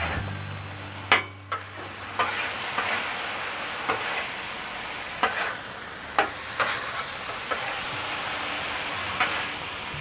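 Appetizers stirred on a Blackstone griddle, a steady sizzling hiss with scattered sharp scrapes and clinks of a spatula against the flat-top, close and moderately loud, no talking.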